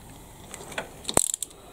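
A quick burst of sharp ratcheting clicks as a ratchet turns over a Piaggio MP3 scooter engine with the spark plug removed, close by, rattling for about a second in an otherwise quiet space.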